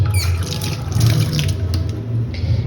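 Water runs steadily from a kitchen tap as hands are washed during preparation of a katla fish curry, a continuous close splashing hiss with no talking.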